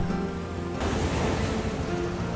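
Heavy surf pounds the shore at Children's Beach in San Diego, a steady broadband wash of strong ocean waves rolling in close and loud, with no voices over it.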